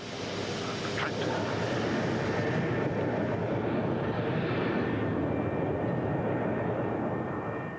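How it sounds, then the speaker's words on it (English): A BAC One-Eleven airliner roars steadily as it climbs after takeoff, a dense, loud jet engine rush with broadband noise that holds constant throughout, heard from close by. "And the 111 climbs on autopilot"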